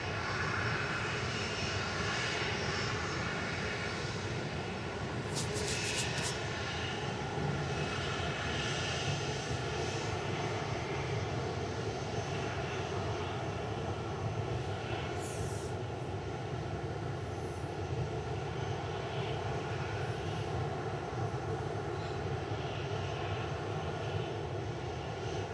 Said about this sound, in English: flight 162, 787-9 Dreamliner